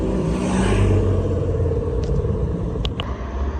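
A McLaren GT sports car rumbles past on a street in Cannes or Monaco, its engine a steady, loud, low drone among nearby traffic, with a couple of faint clicks and no speech.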